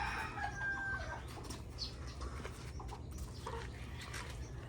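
Chickens, including a rooster, cluck and crow around a rural home under repair, a rising call near the start followed by scattered clucks against a constant low hum.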